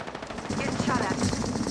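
Rapid automatic gunfire in Apex Legends played on Xbox One, a short burst of quick rattling shots, moderately loud, mixed with a voice.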